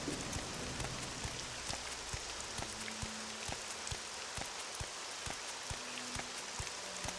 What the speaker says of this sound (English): and then the rain came down